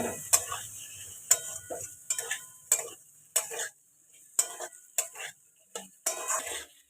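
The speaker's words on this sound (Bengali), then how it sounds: "আলুগুলো দিয়ে ভালো করে এগুলো নেড়ে নেবো আমি" Potatoes being stirred in a pan for ghugni produce repeated metallic scrapes and clinks, spaced roughly every half second to second, fairly close and clear against near silence between strokes.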